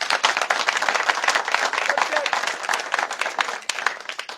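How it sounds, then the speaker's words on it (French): A crowd claps steadily at an outdoor political meeting of the MCVL/PSU alliance in Bikele, Gabon. The dense, even applause holds close and fairly loud for the whole stretch, with no voices over it. "Je souhaite que vous puissiez applaudir pour le chef de quartier."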